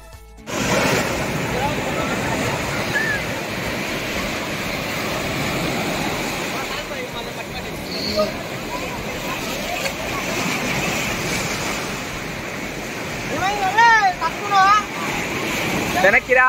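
Ocean surf rolls steadily onto Vizag beach in India, a continuous broad wash of waves with wind buffeting the microphone, and a few brief bright splashes or cries near the end.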